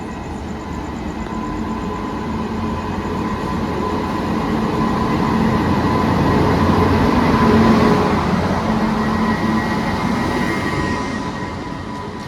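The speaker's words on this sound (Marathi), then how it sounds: "वसईवरून आताच ट्रेन सुटली आहे. ही आहे ट्रेन, केरळा क्रांती ट्रेन आहे" Kerala Kranti express train pulling out of Vasai station, a steady loud rumble of moving coaches that swells toward the middle and eases off near the end, with no voices.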